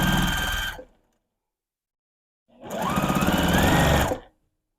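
Sewing machine stitching quilt border seams, running in two loud, steady bursts of about a second each, separated by a pause of silence.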